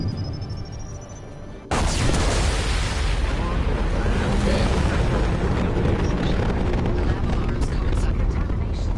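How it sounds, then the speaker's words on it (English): A loud explosion erupts in the Mass Effect 2 video game, a sudden blast after a steady hum, followed by a sustained roaring rumble that stays dense and loud throughout. "Impending explosion."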